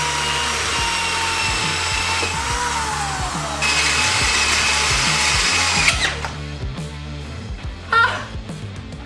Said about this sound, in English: I'm gonna drill 2 holes here on each side